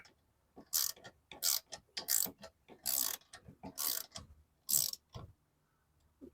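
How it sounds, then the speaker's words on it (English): A bolt on the rear brakes of a 2016 Mazda 6 is tightened with a 19 mm wrench, heard as about seven close, rhythmic bursts of ratcheting clicks separated by short pauses. "you take your 19 millimeter wrench and hold that bolt, and then finish it up with the other one."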